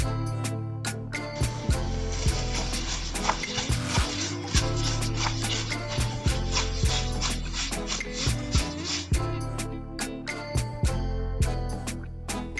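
Crackly, hissing frying of moong dal in hot oil, with sharp scattered pops and the scrape of a utensil moving through it, close and continuous.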